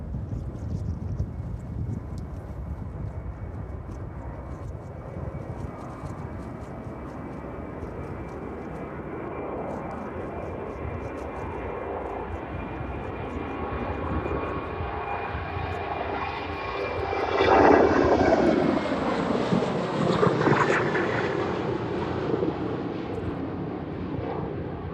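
An airliner taking off from runway 27 at East Midlands Airport in the evening, a long rising jet engine roar heard from outside that swells to its loudest near the end and stays strong as it climbs away.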